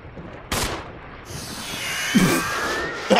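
Sharp gunshots crack out in the video game Resident Evil HD Remaster, one early burst and a couple more later, over a steady synthetic background hum.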